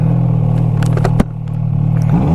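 A 2016 Ski-Doo snowmobile engine runs close and loud, holding a steady throbbing idle with a rattling clatter, dipping briefly partway through before rising again.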